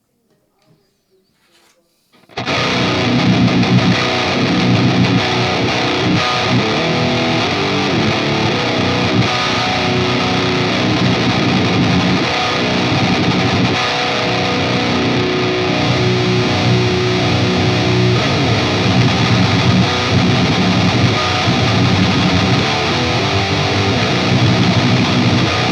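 Electric guitar chugging through a Boss Metalcore ML-2 distortion pedal stacked with another distortion, a dense, saturated wall of palm-muted riffing that starts abruptly after a short quiet lead-in and stays loud and steady throughout.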